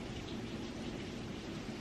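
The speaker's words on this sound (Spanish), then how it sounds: "Uy, no, más cómo está lloviendo." Rain falling steadily outdoors, a dense continuous hiss that stays faint and even throughout, with no voices.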